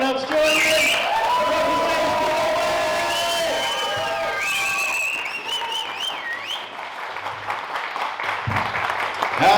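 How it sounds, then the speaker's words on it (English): A comedy club audience claps, cheers and whoops to welcome a stand-up comic, a dense crowd roar with whistles. Music plays over the start, and the applause stays loud and steady throughout. "start the applause. Everyone's joining!"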